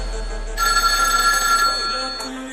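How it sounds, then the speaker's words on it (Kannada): A telephone bell rings in bursts over roughly a second, the ringing clear and fairly close against a quiet indoor background. "ಅದು ನನ್ನ ಫೋನ್."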